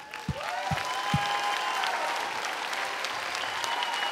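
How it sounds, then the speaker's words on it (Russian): An audience at a church gathering breaks into steady, full applause after a few low thumps, with faint voices and a tonal hum mixed in beneath the clapping. "Et nous allons faire un applaudissement pour le Seigneur."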